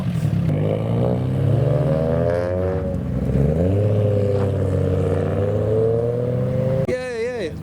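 Modified Nissan S15 with a scrapey, low front end drives past at a car meet on a farm, a loud steady engine note rising and shifting for several seconds, with a sharp rev or wavering burst near the end.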